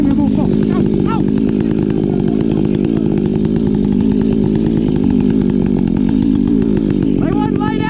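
A logging chainsaw topping a tree runs nonstop, close and loud, with a steady buzzing drone and rising revs near the start and end, while people talk faintly beneath it.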